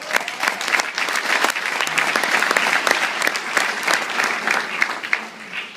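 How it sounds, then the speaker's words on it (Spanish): Audience applause fills a church or meeting hall setting, a steady sustained wash of many hands clapping at close range with no talk over it, tapering slightly at the end. "Don't clap anymore unless I say something really good"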